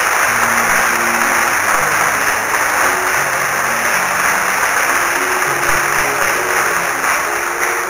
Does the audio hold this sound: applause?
yes